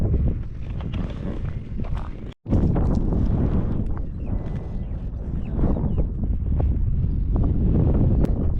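Strong wind at a coastal viewpoint in Bandar Al Khiran, Oman, roaring steadily across the microphone in a loud continuous buffeting rush, briefly cut off for a moment before resuming.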